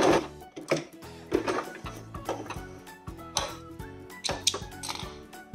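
A sewing machine stitches a zigzag test seam for appliqué in short bursts of rapid mechanical ticking. Light clinks and small pauses come between the bursts, heard up close.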